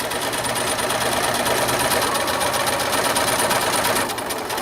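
Sewing machine stitching a quarter-inch seam on a homemade fabric mask, running as a continuous rapid loud whir of needle strokes that stops near the end.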